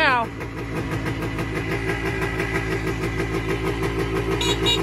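A 1978 Yamaha DT250 motorcycle engine running just after a cold first start, a loud close two-stroke idle with a steady buzzing beat that rises and falls slightly as it surges, with someone talking over it.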